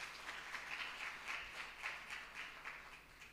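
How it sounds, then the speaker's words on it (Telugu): A church congregation clapping along during a sermon, a faint, steady rhythmic patter of many hands at a regular beat, distant and low in level, with no talking. "గట్టిగా చప్పట్లు కొడదాం"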